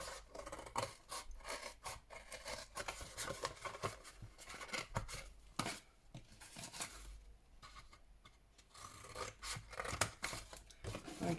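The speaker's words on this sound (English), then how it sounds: "I'm going to cut one of the sides out" Paper being cut with scissors to shape a three-sided box for a paper Christmas book stack, a close run of crisp snipping and rustling strokes in an uneven rhythm, with a few brief pauses.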